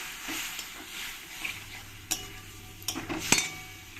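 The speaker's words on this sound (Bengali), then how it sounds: "জলটা দিয়ে ভালো করে আমি মশলাটাকে কষিয়ে নেবো" Spice masala frying with a little water in a pan, a soft sizzle under intermittent stirring scrapes and a few sharp metallic clinks of a spoon against the pan.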